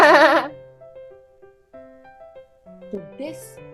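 A storyteller imitates a goat with a quavering bleat after a line of speech, followed by quieter vocal sounds and a brief airy noise at the end.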